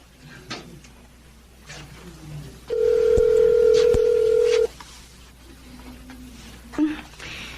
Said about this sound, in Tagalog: Tawagan ko kaya si Sally. Para hindi ako mainip.